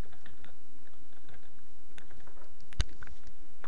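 Keys clatter on a computer keyboard as a search for Google is typed, a quick patter of light clicks with one sharper tap near the end and no talking.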